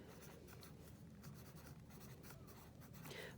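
Pen or pencil writing in a notebook, soft continuous scratching strokes with a faint rhythmic pattern, quiet and close, no voice heard.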